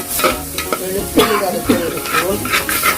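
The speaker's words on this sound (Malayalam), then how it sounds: "വഴറ്റിക്കൊണ്ടിരിക്കുന്ന ഇഞ്ചി ചതച്ചത്" Crushed ginger sautéing in a hot pan for kanthari beef kizhi gives a steady, close sizzle, with repeated stirring scrapes and light utensil knocks throughout and no voices.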